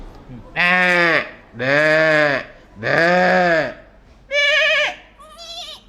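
A person imitates goat bleating, giving four loud drawn-out bleats with short pauses between, followed by a fainter higher one.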